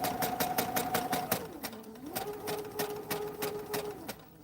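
A sewing machine stitches quilts with a fast, even, rhythmic needle clatter and a running motor hum, close and loud, tapering off at the very end.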